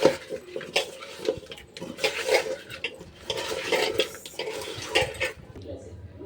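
Fish pieces washed with turmeric in a bowl, hands swishing water and clinking against the bowl in irregular bursts, close and moderately loud, with a brief pause near the end.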